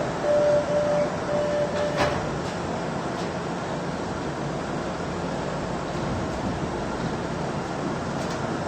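An MBTA train at North Station in Boston, a loud, steady rumbling roar of rail cars close by, with a brief tone near the start and occasional faint clicks, no talking.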